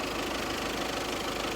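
A 2014 Audi A3 2.0 TDI Sport diesel idles close up with a dense, steady clattering rumble and constant knocking texture, no voices over it.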